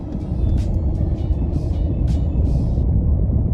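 A turbocharged car that spools but lacks power, driving with a loud, steady low engine rumble from inside the cabin, with faint hissing bursts recurring above it.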